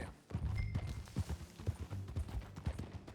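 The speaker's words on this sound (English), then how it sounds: "Get on your horse, John. Follow me. Let's ride." Horses' hooves clip-clopping as riders set off in Red Dead Redemption 2, a brisk, uneven stream of thudding hoofbeats at close range, moderately loud and continuous, with no one speaking over them.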